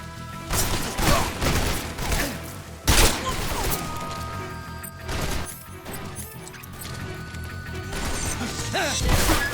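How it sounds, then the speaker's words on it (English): Gunfire and crashing impacts in the stealth action game Metal Gear Solid Delta: Snake Eater, loud irregular bursts and smashes mixed with mechanical clatter, with a voice talking at times. "These guys shooting their own guys."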